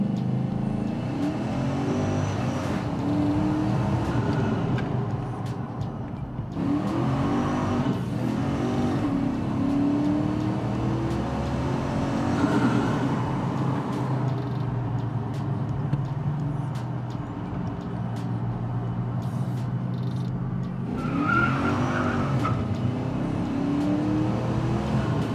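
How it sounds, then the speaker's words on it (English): Supercharged Nissan Titan prototype pickup driving, heard from the cabin: continuous engine and road drone with repeated rises and falls of revving and a faint supercharger whine, no talking. "Get that really cool whine from the V2 supercharger."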